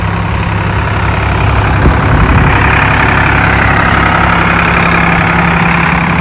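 A nearly new Sonalika 45 tractor with oil-immersed brakes idles steadily and close by, its even mechanical rumble continuing without a break and with no voices over it.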